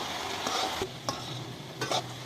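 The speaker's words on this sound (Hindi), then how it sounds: "तो बीच बीच में हम इसे चलाते हुए फ्राई करेंगे।" Vegetables, including tomatoes, stirred and frying in a pan for a cauliflower dish, with a steady close sizzle broken by a few scraping spoon strokes.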